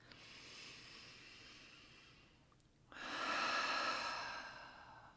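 During a guided meditation, a deep, airy inhale swells up after a brief quiet pause. It is soft and close, with a faint breathy hiss before it.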